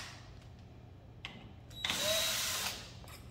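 A power screwdriver backs screws out of a Fuji Xerox DocuCentre IV C2265 photocopier's power supply, giving a short whirring burst over quiet background noise with small clicks around it.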